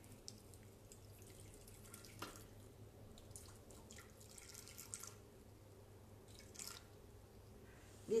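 Water is poured and trickles softly for a recipe in a home kitchen, a faint steady flow with occasional drips, quiet throughout with no talking.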